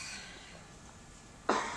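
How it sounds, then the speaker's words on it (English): A person taking a couple of noisy breaths to settle and ground herself before speaking, a faint airy exhale at the start followed by a sharper, louder breath near the end, close and alone. "to take a couple of noisy breaths"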